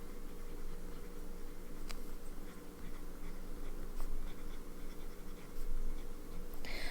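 An older Visconti fountain pen with a juicy medium palladium nib scratches softly across paper, faint steady scritching over a hissy background with a few small taps.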